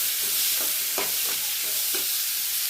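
Tomatoes sauté in a hot pan with salt for a prawn gravy, a steady bright sizzle broken by a few soft scraping stirs.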